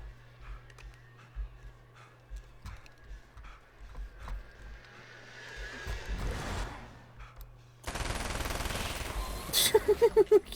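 Rapid video-game gunfire as a magazine is emptied, a burst of sharp repeated shots near the end, preceded by quieter game ambience and scattered thuds.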